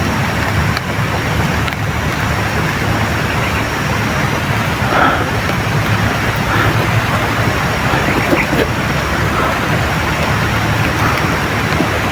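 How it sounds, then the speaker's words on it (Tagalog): Heavy outdoor rain hisses in a thick, constant roar that fills the whole stretch, loud and even, with a brief muffled sound surfacing midway. "Grabe itong ulan tol."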